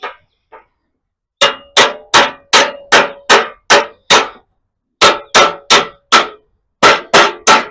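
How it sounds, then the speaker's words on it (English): A hammer and dolly shape the edge of a rusty 1937 Ford Coupe door, ringing out in sharp metallic strikes, a few soft taps and then three quick bursts of evenly paced, loud close blows separated by short pauses. "Take my hammer and dolly. And just shape it a bit."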